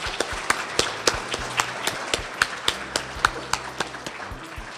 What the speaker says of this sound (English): Let's have a round of applause for all your hard work.